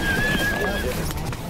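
A horse whinnies with a rising and falling high cry, close by, while a voice talks underneath.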